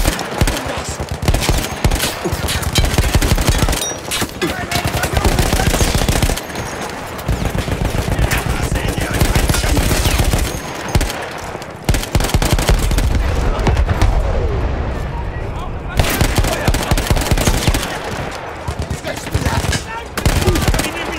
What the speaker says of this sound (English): I love these warning shots.